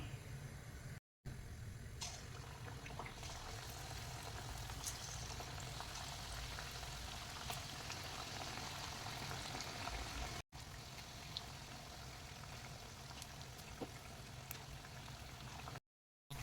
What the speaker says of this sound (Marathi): हे जे बटाट्याचे स्लायसेस आहेत ते आपल्याला यामध्ये डीप करून तेलामध्ये तळून घ्यायचे आहेत